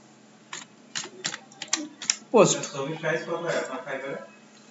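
A computer keyboard is typed on in a quick run of crisp, close key clicks while a LinkedIn post is written, then a person starts speaking over a few fainter keystrokes.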